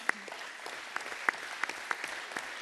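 Audience applause for federal bureau members at a closing speech, a steady patter of clapping with a few sharper individual claps standing out.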